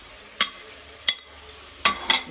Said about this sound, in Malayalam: ഇട്ട് നല്ലതുപോലെ ഇളക്കാം